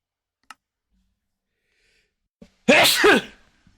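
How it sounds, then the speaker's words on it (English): One sharp, loud human sneeze bursting out of near silence after a few faint clicks, close to the microphone and followed by a quick fade. "I'm sneezing again."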